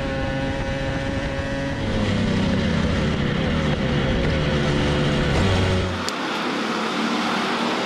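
A shifter kart engine drones loudly on a racetrack in a sustained, high-pitched roar that rises in pitch as it passes another kart, then drops off abruptly near the end.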